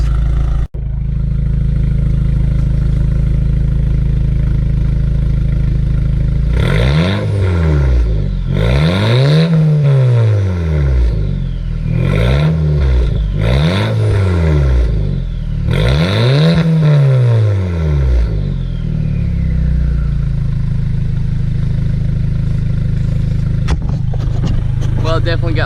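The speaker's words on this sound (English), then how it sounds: "Let it warm up for a minute and we'll do some rev ups." An Audi engine with a cat-delete exhaust idles steadily, then revs up in several sharp rising and falling bursts before settling back to idle, loud and close.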